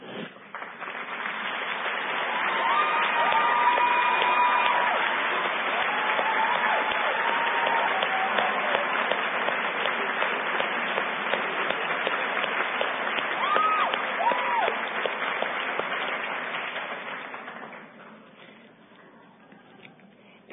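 Graduates at a 2009 Carson City commencement ceremony applaud faculty and staff in a sustained, dense round of clapping from a large crowd that swells early, holds steady for most of the clip, then fades out near the end.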